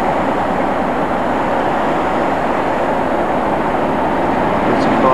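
A steady, loud rumble of a train rolling past nearby at Crewe station in 1988, broad and continuous throughout with no breaks.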